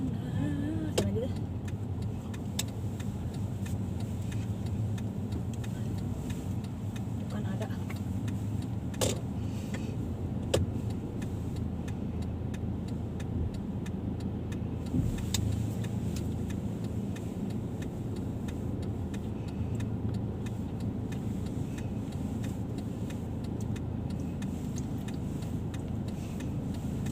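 Interior of a moving car, a low steady engine and road rumble with occasional faint clicks and knocks, quiet and continuous with no clear talking.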